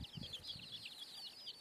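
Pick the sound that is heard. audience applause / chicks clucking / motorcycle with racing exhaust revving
chicks clucking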